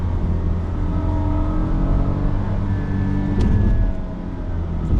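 A 2025 Kia Syros 1.0-litre turbo with a 7-speed DCT runs in sports mode, its engine droning steadily with a rising whine near the end. The revving stays close and continuous throughout, with no talking over it.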